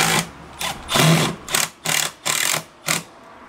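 A Milwaukee 12V impact driver runs in a series of short, loud, buzzing hammering bursts, about six or seven pulses of varying length separated by brief pauses, up close and with no talk.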